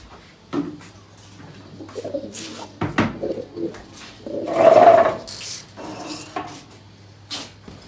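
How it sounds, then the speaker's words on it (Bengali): Pigeons coo softly inside a pigeon loft, with a louder burst of cooing and wing movement mid-way, mixed with scattered clinks and knocks of metal and handling noises. "এখন কবুতর ছাড়ার পালা।"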